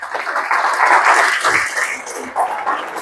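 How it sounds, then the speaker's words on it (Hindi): An audience at an investment advisor seminar gives hearty applause, a dense wash of clapping that carries on steadily for a few seconds. "तो एक बार जोरदार ताली इनके लिए।"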